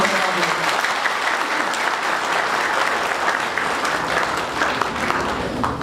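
A wedding congregation claps together in sustained, dense applause, close and even throughout with no break, and voices murmur faintly beneath it.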